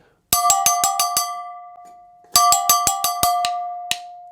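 Two short bursts of triplet strokes on metal brake drums, each a rapid run of about six bright, clanging hits with a sustained ring, separated by a brief pause and ending on a lone accent.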